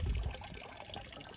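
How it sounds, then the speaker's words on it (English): Water pouring from a homemade Berkey filter into a drinking and washing bucket, a faint, thin trickle and dribble close by, steady and alone. "Still have some water left over in our homemade Berkey. To replenish my drinking and clothes washing bucket."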